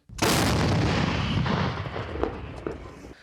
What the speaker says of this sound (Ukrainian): Паралельно по тилових базах ворога починає працювати наша артилерія